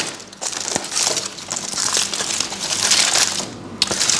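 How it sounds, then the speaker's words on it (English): Aluminum foil wrapped around a tortilla wrap being unwrapped at a restaurant in Belgrade, Serbia, a continuous loud close crinkling and crumpling with sharp crackles. "It comes in this, which is in aluminum foil. And as I open it up"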